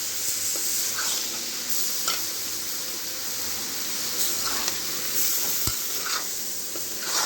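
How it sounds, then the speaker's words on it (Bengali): Shing catfish stirred into spiced masala in a pan give a steady frying sizzle, broken by repeated scraping strokes of the spoon against the pan. "এই তো শিং মাছ দিয়ে এখন নাড়াচাড়া করে নিবে।"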